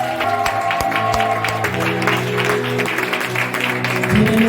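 A church congregation claps and cheers in praise during a French-language worship service, a loud wash of applause blended with sustained music and voices.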